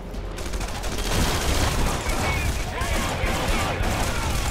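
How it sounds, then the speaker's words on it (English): Energy-based shotgun blasts from Red Faction Guerrilla, dense and continuous amid a busy firefight, loud and close with overlapping shots and no clear gaps between them. "Alright, let me try the shotgun."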